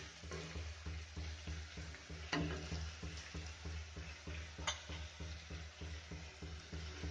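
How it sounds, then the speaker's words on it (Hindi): Ginger garlic paste fries in a pan for aloo masala, a steady close sizzle broken by regular rhythmic scraping strokes of stirring and a couple of sharp ticks, fairly quiet with no voices. "अब अदरक लहसुन का पेस्ट डालेंगे। इसे 20 से 30 सेकेंड पका लेंगे"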